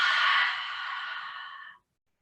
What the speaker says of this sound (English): as you exhale this time, we're going to be like we're fogging up a mirror